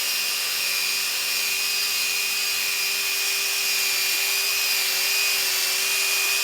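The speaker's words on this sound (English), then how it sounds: "I'm just going to take the drill here." A loud, steady whine of a power drill running continuously, close by, drilling into a Wilson football, with a high tonal hum and no speech.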